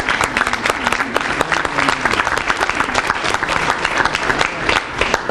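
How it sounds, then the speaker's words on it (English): A crowd at a teacher pinning ceremony claps loudly and continuously, a bright, busy stream of individual claps close at hand with a faint murmur of voices underneath. "Let's give them another round of applause."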